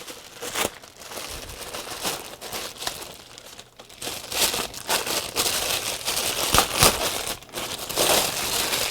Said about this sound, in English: Okay, so I'm gonna get the filter out of the bag.